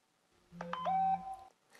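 A short electronic notification tone sounds on a phone as a bank SMS arrives: a few quick rising tonal beeps lasting about a second, moderately loud against near silence.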